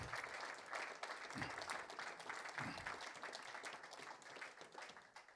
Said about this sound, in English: How about another round of applause for Parker, Matthew, Ian, and Zainab.